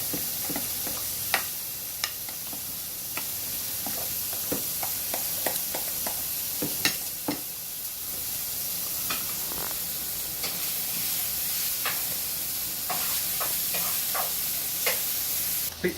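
Chorizo cooks in a pan over medium to medium-low heat, a steady close sizzle and hiss running throughout, broken by scattered scraping clicks and taps as it is stirred now and then.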